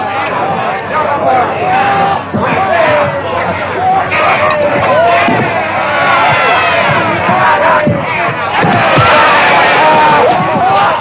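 A rowdy crowd yells and cheers around a fistfight in a 1950s western, a loud, dense roar of overlapping shouts and babble that swells near the end.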